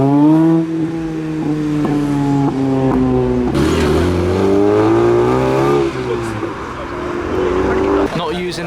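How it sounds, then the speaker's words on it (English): A Vauxhall VX220 driving past at a car meet, its engine note rising and falling with gear changes, loud and close, with a burst of whooshing noise midway as it passes. "There's the Vauxhall VX220."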